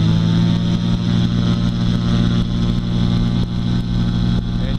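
A tow plane's engine runs at full throttle during take-off from Carson City airport, a steady loud droning roar with a strong low hum that holds unbroken throughout.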